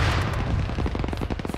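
Distant explosion and gunfire from the military video game Arma, a dense, continuous rumble of booms and rapid cracks through the whole stretch, with no talking over it.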